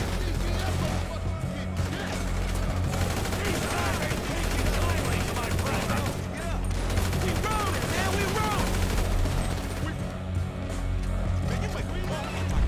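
Sustained gunfire in GTA V, with rapid bursts and repeated shots running densely through the whole stretch. Players talk excitedly over the shooting.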